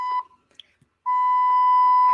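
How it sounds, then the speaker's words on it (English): A censor beep tone played from a phone's speaker: a short burst, then after a brief gap a steady sustained beep running to the end, clear and fairly close. "I got to cue up the beep"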